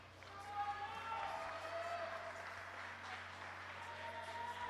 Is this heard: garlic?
no